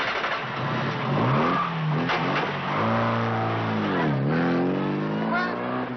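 A stolen sports car's engine revs hard and climbs in pitch as it pulls away, loud and close, with rising and falling sweeps and some overlapping voices.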